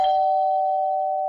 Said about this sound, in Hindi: डोरबेल की आवाज